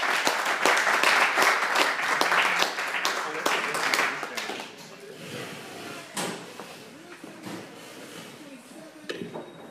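Audience applause after a talk at a software defined radio meetup, a dense crowd clapping for about four seconds that thins to scattered claps, with someone speaking afterward.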